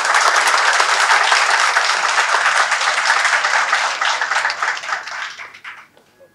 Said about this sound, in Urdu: میں چاہتا ہوں پرزور تالیاں ہمارے مولانا بشیر فاروقی صاحب۔